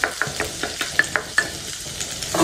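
Garlic and onion saute in hot oil in a pan, a soft steady sizzle broken by a regular series of sharp scraping stirs from a utensil, close and alone with no talk.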